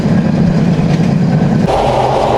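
A train rolls steadily across the Padma bridge in Bangladesh, a constant loud rumble of wheels and carriages with a low droning hum that shifts in tone partway through.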